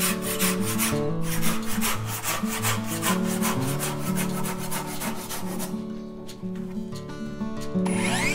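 Hand saw cutting through the branch of a forked wooden log, rough cutting in steady back-and-forth strokes with a rasping rhythm, close and moderately loud, no talk.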